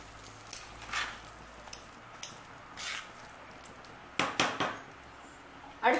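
A ladle stirs tempering into sambar rice in a pot, with soft squishy scraping and a few sharp metallic clinks near the end, fairly quiet and close.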